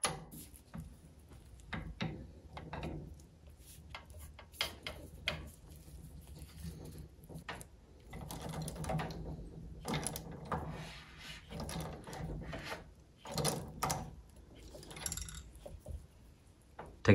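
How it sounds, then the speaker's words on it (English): Tightening the shift cable fitting on a Mercruiser Alpha outdrive with a 3/4 inch socket gives a run of close, irregular ratcheting clicks and metallic knocks with short pauses between them. No one speaks. "transition to the 3/4 inch socket and continue tightening this fitting"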